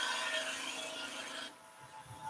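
Wood-turning lathe tool vibrating as its bevel rubs a spinning wooden cabriole leg, giving a steady, close rasping scrape that eases off and quietens partway through.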